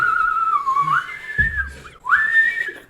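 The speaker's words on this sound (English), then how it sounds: "You're whistling loud as" A person whistles loudly in a wavering, sliding melody that breaks off briefly mid-phrase and then picks up again on a rising note.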